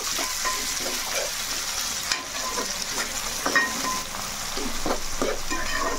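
Tomato fries in a pan for fish curry, giving a continuous close sizzle with intermittent spatula scrapes and light clinks against the pan.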